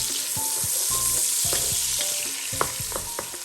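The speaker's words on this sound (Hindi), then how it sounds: "प्याज हल्की सी फ्राई हो गई है।" One large chopped onion sautéing lightly in a hot pan, a steady close sizzle broken by repeated clacks and scrapes of stirring, loud with no talking.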